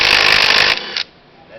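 An impact wrench rattles loudly in a short burst while backing off a reverse-thread fan nut on a GY6 150cc scooter engine, then cuts off into a brief whine and quiet.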